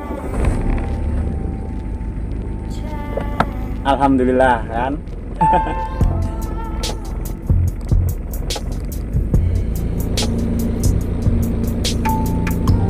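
A Toyota Starlet with a carburetor engine cranks and catches, then settles into a steady low idle rumble. Throughout, a person talks over the running engine, and there are clicks and wind-like noise.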